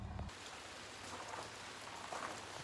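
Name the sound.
rain falling on top of a tent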